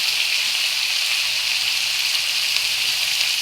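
Ginger paste and mixed vegetables sizzle in a hot pan, a steady, dense crackling hiss with no pauses, close and fairly loud throughout.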